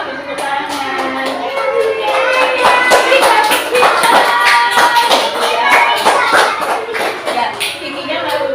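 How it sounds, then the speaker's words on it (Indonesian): A group of children claps along in a loose, uneven rhythm, sharp hand slaps piling up over a few seconds with voices mixed in beneath. "semua teman-teman tepuk tangan"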